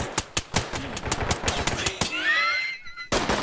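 Rapid gunfire in the tactical shooter game Ready or Not, a burst of sharp, evenly spaced loud shots that cuts off abruptly and then resumes after a brief ringing pause.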